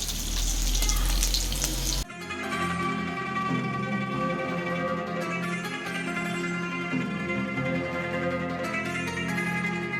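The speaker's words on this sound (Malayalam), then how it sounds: "ഒരു പപ്പടം പൊരിക്കുന്നുണ്ട്" Steady sizzling of pappadam frying in hot oil, continuous and close, with a brief louder crackle at the start.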